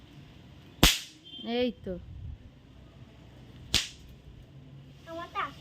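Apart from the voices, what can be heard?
firecrackers set off on Kali Puja morning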